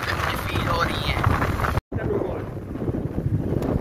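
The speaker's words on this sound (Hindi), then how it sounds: "ठंडी ठंडी हवा चल रही है विलेज में" Cool wind blowing through a village, a steady loud rushing roar buffeting the microphone, broken by a brief dropout midway, with no talk.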